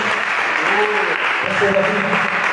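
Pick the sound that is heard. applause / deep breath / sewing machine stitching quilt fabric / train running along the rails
applause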